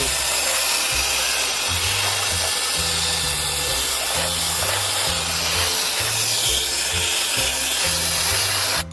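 A WOLFBOX MEGAFLOW 200 compressed air duster blows out debris with a loud, steady rushing hiss and a pulsing motor drone underneath, running continuously before cutting off at the end.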